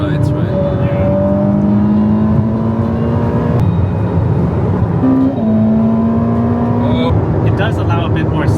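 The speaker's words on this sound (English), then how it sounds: "I kind of like the turbo sound" Turbocharged all-wheel-drive car engine on a late-night drive through Bangkok, a steady loud drone rising in pitch through gears with a shift midway, heard from inside the cabin under constant road rumble while people talk.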